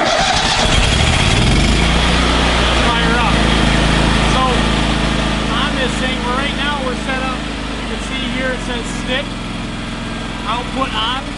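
Miller Trailblazer 325 welder generator engine cranking and catching, then settling into a steady loud running drone with beeps from the control panel over it, while someone talks nearby.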